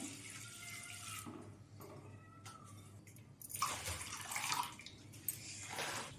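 Water is poured onto moong dal in a pot on a stove, giving a steady splashing stream like a running tap that swells louder near the end.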